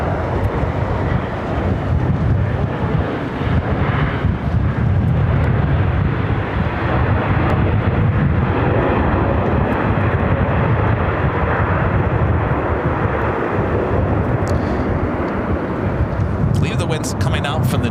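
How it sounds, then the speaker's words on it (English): A Boeing 777-300ER airliner rumbles at LAX in extreme winds, giving a loud, broad, steady roar mixed with heavy wind buffeting across the whole stretch. "Also have Singapore flight 12 coming up from Tokyo Narita on a 777-300ER, also heading to the north side."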